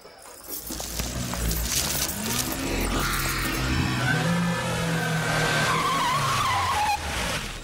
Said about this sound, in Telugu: మెరుపు వేగంతో కారు వచ్చాగింది.